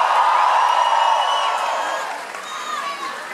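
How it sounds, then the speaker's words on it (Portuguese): Audience at a Festa LAB Fantasma party night cheers and applauds, a dense crowd roar of clapping and whoops that is loud at first and eases off toward the end. "Uma salva de palmas para Discopédia."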